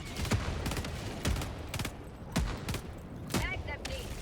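Gunfire in the Helldivers video game, with loud single shots and short bursts at irregular intervals over a constant busy background of game noise and a talking voice.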